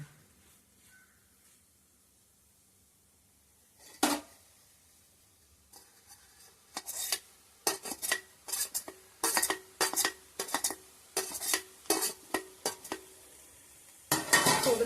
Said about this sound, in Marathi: आणि असं ना ढवळून घ्यायचं.